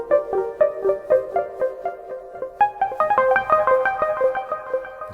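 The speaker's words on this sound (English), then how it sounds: "It's called Synth Bass FK." Synth Bass FK patch played as a QMidiArp arpeggio, a quiet run of short plucked synth notes in a steady, quick rhythm that steps higher partway through, with no voices.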